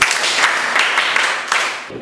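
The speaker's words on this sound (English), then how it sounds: "Clap for me." Children in a maths classroom clap together in a sustained burst of dense group clapping lasting about two seconds, fairly loud and close, with slight swells in intensity before it stops abruptly.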